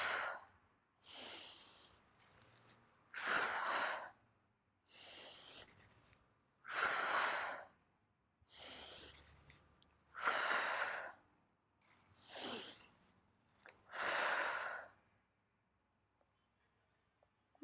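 Slow, deep breaths in and out during a Pilates roll back exercise, about nine airy breath sounds evenly spaced with short pauses between, close and fairly quiet.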